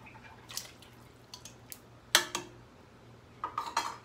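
Canned mushrooms go into a pot of beef stroganoff with a few wet plops, clinks and scrapes at close range, spread over a quiet kitchen background with no talking.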